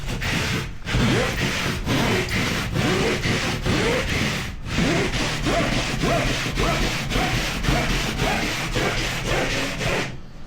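Material for a warm roof being sawn by hand, with close, steady back-and-forth rasping strokes in an even rhythm for the whole stretch and no talk.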